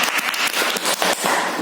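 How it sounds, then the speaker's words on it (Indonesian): Applause from a classroom of students after a group presentation, a dense, fairly loud patter of many hands clapping together through the short stretch. "Bagus, luar biasa, tepuk tangan."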